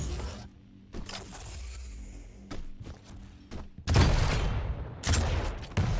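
Shotgun fire in a fast arena shooter match, several sharp blasts and thuds, with heavier bursts toward the end, loud and close amid game mechanism noises.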